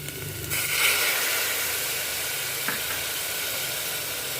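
Tomatoes dropped into a hot pan for masoor pulao, giving a broad, steady hiss that swells at the start and then settles into an even sizzle, heard alone.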